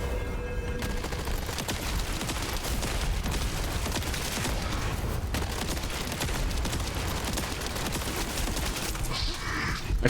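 Dense, sustained automatic AK rifle fire in the Starfield video game, a continuous loud rattle of rapid shots filling the whole stretch with no pause.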